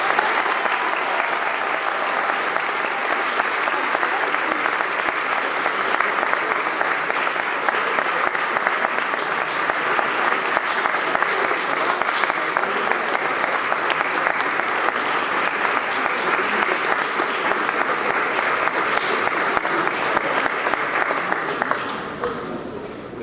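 An audience in a hall gives a long, steady round of applause welcoming Will Smith, dense clapping holding at full strength for about twenty seconds before tapering off.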